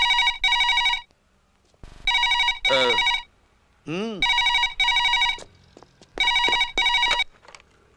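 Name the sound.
telephone ringing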